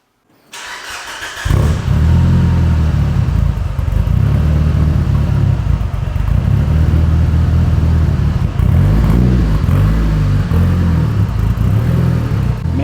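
A Mitsubishi Evo 8's engine lopes while driving, a loud close rumbling idle with an uneven, pulsing beat that keeps repeating after a quick start-up, with no talk over it.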